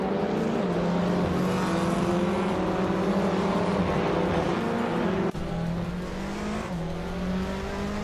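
A 2017 Audi RS 3 TCR touring race car and rival cars roar along a circuit, engines droning loudly at high revs with rising pitch and a brief gear-change dip partway through.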